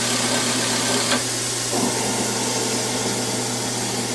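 A 2005 Haas TL-25 CNC lathe with a 30-inch swing and 10-inch chuck runs with live tooling, giving a steady, close mechanical hum and whine whose tone shifts partway through.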